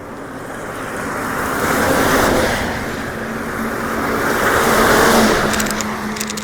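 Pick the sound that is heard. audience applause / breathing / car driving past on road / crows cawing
car driving past on road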